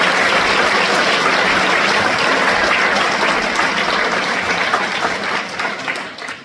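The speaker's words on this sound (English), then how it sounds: "Give these guys a round of applause" A festival audience applauds a local band of bass guitar, guitar and violin players, dense loud clapping filling the hall steadily before thinning slightly at the end.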